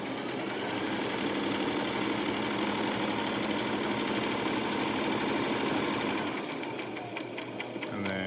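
A sewing machine stitches a Christmas stocking with a fast, steady, close mechanical whir for about six seconds, then stops, leaving quieter handling sounds.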